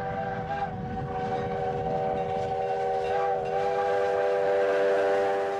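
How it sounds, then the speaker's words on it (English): A vintage passenger train of the Grand Canyon Railway, running between Williams and the canyon, sounds a steady, sustained multi-tone whistle or horn over a continuous low rumble, loud and unbroken throughout. "the Grand Canyon Railway carries passengers by vintage trains to the canyon"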